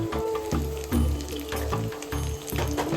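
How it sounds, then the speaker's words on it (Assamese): Sliced onions sizzling steadily in hot mustard oil in a pan, a continuous crackling fry close up with light stirring knocks, for a traditional Assamese jackfruit-and-potato curry. "পিঁয়াজখিনি অলপ সময় ভাজিব"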